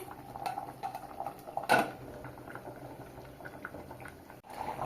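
Egg and potato curry bubbles in a pot, with a steady simmering burble, a clatter of a lid or utensil against metal near the middle, and occasional light clinks.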